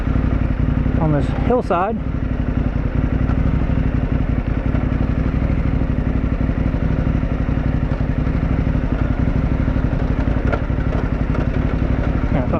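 A dual sport motorcycle on Mitas E-10 Dakar tires rides downhill on a hillside, its engine running steadily and loudly throughout with clattering off-road noise, while someone talks over it.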